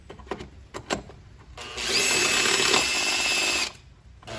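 A power drill runs during a sunroof drain repair on a 2006 Chevrolet Impala, a few short clicks and taps, then a steady whirring burst of about two seconds that cuts off abruptly.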